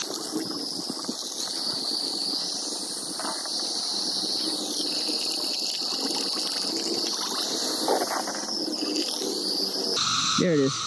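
Water running out of a PVC siphon pipe into a kiddie pool, a steady close gushing and trickling that holds on continuously, with a brief different rushing burst near the end.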